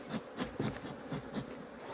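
Honey bees buzz around an opened hive during an autumn colony check, a faint, wavering drone with individual bees passing near, and no voices.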